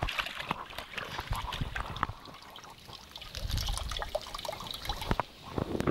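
Water trickles and drips as washed kale is squeezed by hand into a pot of water while cooking, a faint uneven splashing with irregular small drops.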